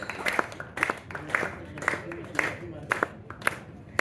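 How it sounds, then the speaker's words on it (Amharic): Children at a church gathering applaud together in a steady, moderately distant patter of many small hands, with voices mixed in the crowd. "አጨብጭቡ"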